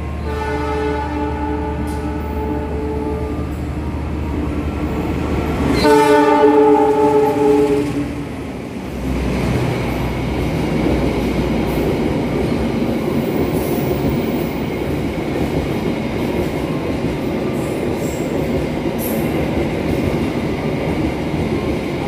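A passenger train horn blares with a long chord at a station, then the heavy rumble and rattle of railcars rolling steadily past close by.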